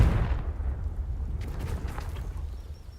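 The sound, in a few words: Confringo fire blast spell in video game Hogwarts Legacy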